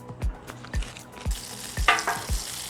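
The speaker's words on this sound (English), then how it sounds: "Again, our Blackstone, we're going to put some butter down." Butter and frozen tater tots sizzle on a Blackstone griddle, with a steady frying hiss and a flare of sizzle near the middle, punctuated by repeated low knocks of a spatula or utensil on the flat top.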